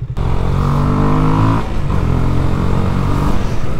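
A 2019 KTM Duke 125 motorcycle revving loudly and close, its engine note climbing and easing in sustained pulls, with a brief dip midway and no talk over it.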